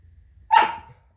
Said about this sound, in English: And those little barks, he's just really enthusiastic.